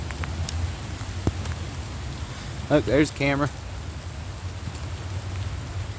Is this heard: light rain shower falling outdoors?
yes